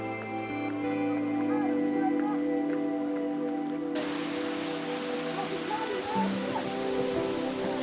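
Rushing water of the Khudoi Waterfall in Meghalaya, heard from a forested trail as a steady broadband roar that swells suddenly partway through and then holds steady, with faint bird calls in the background.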